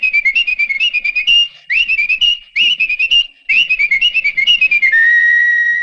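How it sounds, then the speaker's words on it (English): Bright, lively whistling of a quick melody in short bursts, with brief pauses between phrases and a long held note at the end. "Only fast whistlers could whistle while they worked."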